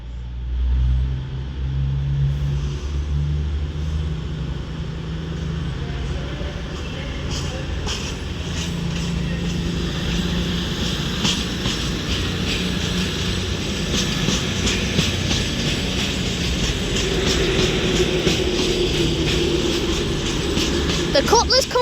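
A Class 222 train pulling out of Crewe station on the West Coast Main Line, its engine note building steadily as it moves off, loud and close, with a voice talking over the start.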